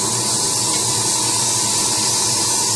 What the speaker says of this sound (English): Let's spray it on this spoon.